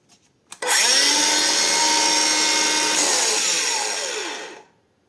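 A cordless screwdriver spins up abruptly and runs at full speed for about four seconds, a loud, steady, close whining motor that winds down briefly before stopping.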